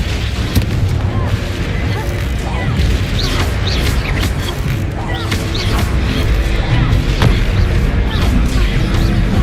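Confringo fire spells bursting in combat in the game Hogwarts Legacy, a dense string of booming blasts and crackles over a steady roar of battle noise, loud and continuous, with shouted voices mixed in.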